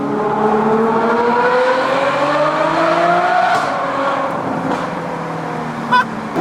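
A tuned Ferrari with an F1-style exhaust roars up through the gears, its rising engine pitch climbing, dropping and climbing again loud and close, with a brief sharp pop near the end.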